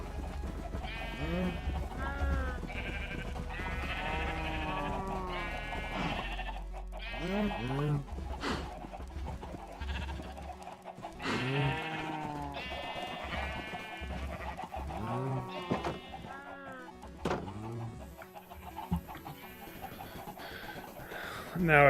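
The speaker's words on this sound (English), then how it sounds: "It drives me crazy that John didn't separate the sheep from the bulls." Minecraft sheep let out repeated wavering bleats, near and clear, mixed with other farm-animal game sounds while a person talks over them.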